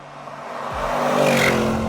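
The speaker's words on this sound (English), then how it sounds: "you can opt for an Akrapovic high-performance exhaust that's fitted to this car, and it sounds really" A 2025 Bentley Bentayga Speed fitted with an Akrapovic high-performance exhaust builds from a low idle into a rising, revving engine note that swells louder toward the end, close and unaccompanied by speech.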